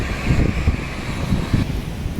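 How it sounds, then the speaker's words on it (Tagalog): Strong typhoon wind outdoors roars and buffets the microphone with low, gusty rumbles pulsing in uneven waves, a continuous loud blustery wash with no talking. "Malakas ang hangin"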